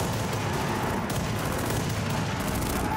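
Gunfire in a video game rattles in a dense, continuous barrage at steady loudness throughout.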